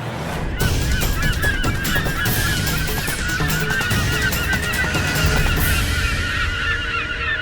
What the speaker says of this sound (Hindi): पक्षियों का समूचा झुंड आ रहा है।